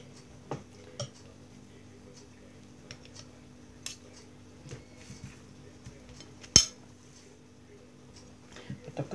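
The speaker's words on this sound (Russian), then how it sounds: "Теперь режу по порциям." Quiet, scattered knife taps and clinks against a plate or board as a folded omelette is cut into portions, irregular and close, with one sharper clack partway through.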